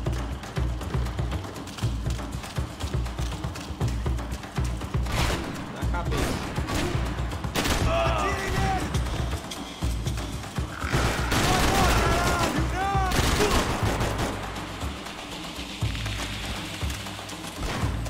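Rapid bursts of gunfire from a video game firefight, dense and continuous over busy game effects, with scattered shots and rattling volleys throughout; a voice talks intermittently over the action.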